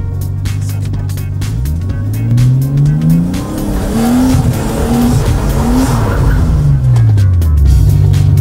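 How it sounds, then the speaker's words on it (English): Tires squeal loudly and continuously as a car drifts through a 270-degree turn, engine revving underneath, sliding pitch rising and falling for several seconds. "We're just doing a 270-degree turn and then stopping"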